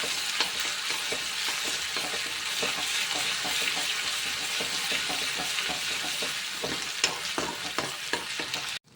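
Onions sizzle and crackle in a hot pan with occasional stirring scrapes, a steady close frying hiss that cuts off at the end.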